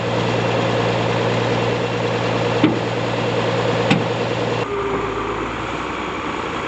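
An old tractor engine idles with a steady low rumble and faint vibration, broken by a couple of brief clicks and a slight drop in tone near the end, heard alone without talk.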